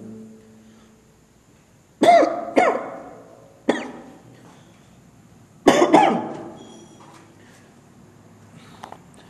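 A person coughs in several close, harsh bursts, some doubled, separated by quiet pauses in a still room.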